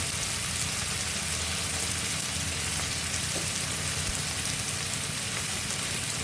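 Ground spice paste fries in a pan for a mutton and potato curry, giving a dense, continuous sizzle at a constant level with no voices over it.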